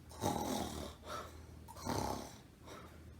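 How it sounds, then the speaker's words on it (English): Snoring sound effect in an audiobook of a Magic Tree House story set in a longhouse, with three slow, deep, rasping snores, each a drawn-out breath, close and fairly loud with no narration over them. "snoring came from the other end of the longhouse"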